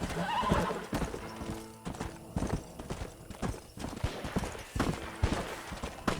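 A horse clip-clops along in Red Dead Redemption, with steady hoof strikes near and clear, a whinny early on and scattered game ambience between the footfalls.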